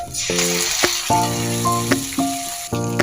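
Chili and onion paste hisses and sizzles loudly in hot oil, a continuous frying crackle with a few sharp pops, while tonal chimes sound intermittently over it.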